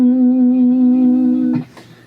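A slow blues solo on electric guitar, one long sustained note ringing steadily and loud before a quick slide into a short, quieter phrase that trails off.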